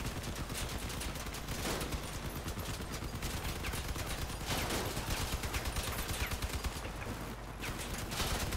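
Machine gun fire in the vehicle combat game CrossOut, from a Workhorse build with a triple-MG setup, rattling in rapid continuous bursts with brief gaps amid battle noise throughout the clip.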